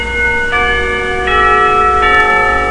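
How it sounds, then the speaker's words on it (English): A school lunch bell in the visual novel Katawa Shoujo rings as sustained, clear bell tones, with three struck chimes layered at a steady pace over a constant hum. "The lunch bell rings"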